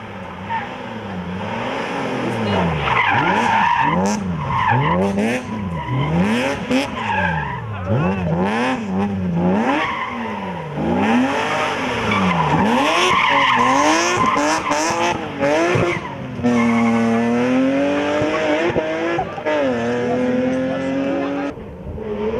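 Rally cars at the Rallye de la Famenne in Belgium on damp special stages rev hard, their engines rising and falling through repeated gear changes, with tyres skidding and squealing, loud and continuous throughout.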